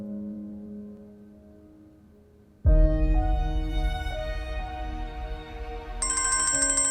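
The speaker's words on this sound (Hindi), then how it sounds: "देखो जरा, देखो किसका फोन है।" A phone ringtone plays loudly, a melodic electronic tune that starts suddenly after a quieter hum and continues with higher beeping notes near the end.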